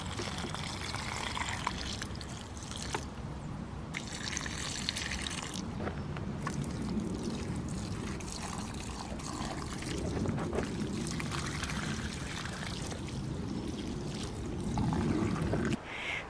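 Water pours and splashes onto allotment plants during a heatwave evening, in uneven bursts, a fairly close trickling stream with brief pauses between pours.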